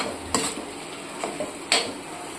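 Squid masala is stirred in a pan, a spoon scraping and clinking against the metal over a soft sizzle, with a couple of sharper knocks.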